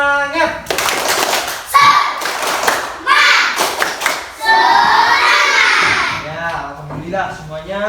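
Primary schoolchildren in a classroom perform a patterned rhythmic clapping routine in several loud bursts, with a teacher's voice and children chanting between and over the claps.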